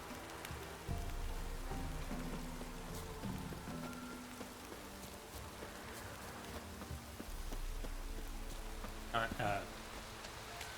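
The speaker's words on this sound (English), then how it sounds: "So rainy that daytime looks about like nighttime." Heavy, steady rain in The Witcher 3 hisses continuously across the whole stretch, with faint tonal game sounds underneath and no talk.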